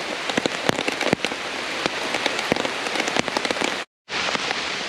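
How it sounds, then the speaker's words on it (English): Dense, steady rain patters onto a forest leaf canopy, with sharp nearby drips and splats popping through the constant hiss, broken by a brief dropout near the end. "sort of just taking advantage of the rain while you can"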